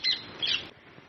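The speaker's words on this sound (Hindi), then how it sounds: "आप यहाँ चिड़ियों की आवाज़ भी सुन रहे होंगे" Brief squawking bird calls, two short bursts, close and fairly clear, in an open outdoor spot where peacocks roam, fading into quiet background.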